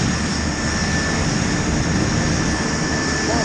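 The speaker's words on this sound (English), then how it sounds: "That's the air ambulances." An air ambulance aircraft passes overhead near O'Riordan Street, a loud, steady engine roar and broadband rumble that holds evenly for the whole stretch without a break.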